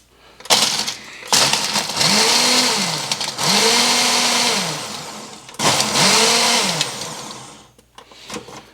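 A Ninja blender making a smoothie whirs in three loud bursts, its motor pitch rising and falling as it spins up and winds down between pulses.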